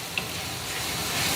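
Tomato and capsicum fry in a kadai for a mushroom dish, a steady close sizzle that swells slightly, opening with a quick clink of stirring.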